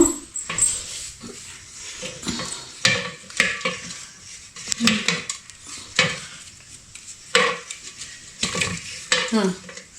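Butter is churned out of buttermilk in a jug, an uneven run of sloshing knocks and scraping strokes, with people talking in the background.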